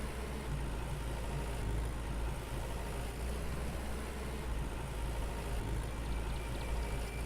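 A tractor pulling a plow across a field in the Farmer's Dynasty farming game makes a steady low engine drone, constant and moderately quiet with no changes in pace throughout.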